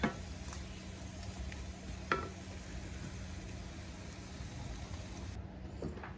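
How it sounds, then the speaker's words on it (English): Squash and onions sauteing in half a stick of butter in a pan, a steady soft sizzle and crackle with a few brief clicks of stirring, close and quiet, no talking. "Squash and onions was sauteed with a half a stick of butter"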